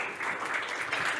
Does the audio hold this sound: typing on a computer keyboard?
no